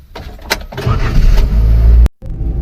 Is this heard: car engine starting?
yes